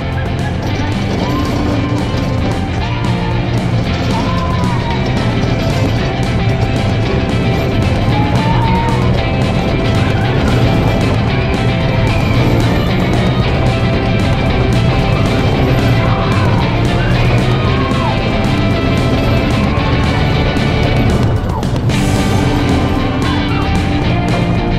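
Old-school wheeled roller coaster running its track, a loud, continuous rumble and roar of wheels with faint distant yells, sustained throughout.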